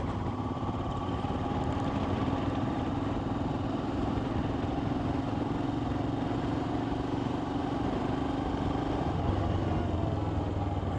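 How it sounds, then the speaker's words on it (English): A new Royal Enfield Himalayan motorcycle on its first ride gives a steady, low engine drone with wind rumble that holds evenly throughout, moderately close and without speech. "I'm out on my new Royal Enfield Himalayan. My first ride."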